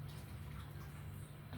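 A hospital urinal and bedpan are rinsed under running tap water during nursing disinfection work: a faint, steady rush of flowing water over a low hum, with no talking.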